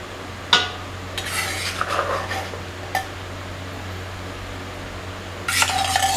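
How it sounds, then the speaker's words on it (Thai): Curry paste and pounded tilapia are scooped into a pot of soup on the stove, heard as a few scattered clinks and scrapes of a utensil against the pot over a steady low hum. "แล้วก็จะทำการตัก เครื่องแกงกับเนื้อปลาเมื่อกี้ที่เราโขลกเมื่อกี้ ใส่ลงไปในน้ำซุป"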